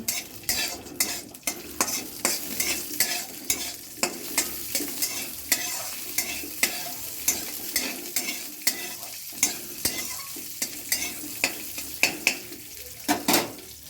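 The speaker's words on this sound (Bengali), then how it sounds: "একটু ভেজে নেব" Cashews and raisins fry in a pan for a Bengali aloo jhuri chop, with steady close sizzling broken by frequent sharp scrapes and clinks of a spoon stirring against metal.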